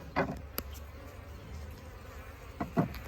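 Low steady buzzing of honey bees hums throughout while a bee package is installed into a top bar hive, with a few brief louder bursts as insects pass close by.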